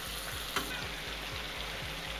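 Chicken pieces fry in a pan for butter chicken, giving a steady, close sizzle with a soft rhythmic scraping pulse running underneath and one brief sharper crackle partway through.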